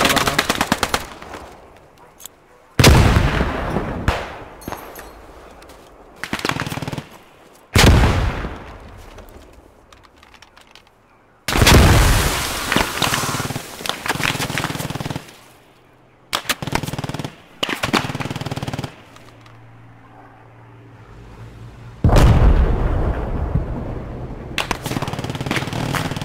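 Loud bursts of machine gun fire in the World War II shooter Post Scriptum, long rattling volleys broken by short pauses and quieter stretches of battlefield ambience.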